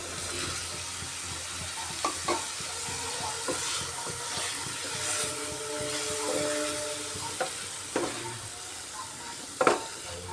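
Fried potatoes being stirred into a cooked spice masala in a pan for Bengali cabbage curry, a low steady sizzle with scattered spatula scrapes and clinks, close, and no talking.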